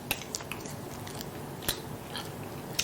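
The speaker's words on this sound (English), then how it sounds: "this is the first time that somebody will be chewing ice" A person chews ice, giving a few sharp crunches and bites scattered across a quiet room, close and fairly soft, with no one speaking.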